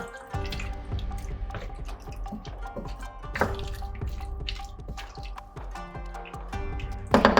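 Coconut milk and a little water being stirred into a Thai curry soup in a pot: close, wet sloshing and dripping liquid with a few sharp clinks of a utensil against the pot.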